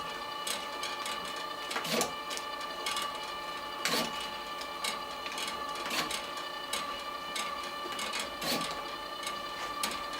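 A LAB500 labelling machine applies price stickers to cardboard and paper, giving a steady mechanical whir punctuated by regular clacking strokes about every two seconds.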